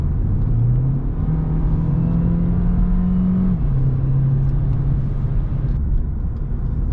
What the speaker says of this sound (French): Donc là lors d'une forte accélération, tu vois elle part assez bien